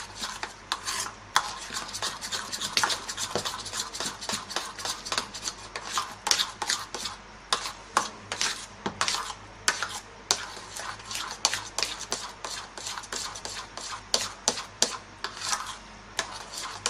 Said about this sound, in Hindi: अच्छे से इसको हम मिक्स करेंगे।